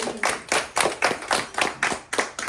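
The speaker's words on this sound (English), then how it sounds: "Give her a round of applause." Audience applause at a seminar, a short burst of steady clapping from a small crowd, even and fairly close, with no voices over it.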